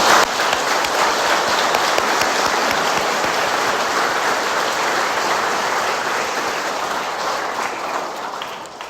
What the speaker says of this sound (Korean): 지금 이 미사 중에도 계실 테니 환영의 박수를 부탁드립니다.